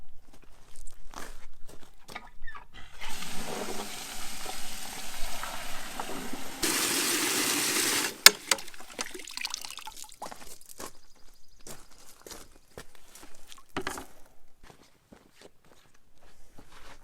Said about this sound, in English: I need to put some water in here